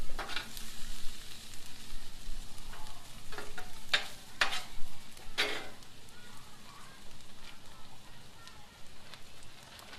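Taco fillings of carne asada short ribs and chicken being stirred on a Blackstone griddle: soft steady sizzling with a few sharp scraping clicks of the spatula close by.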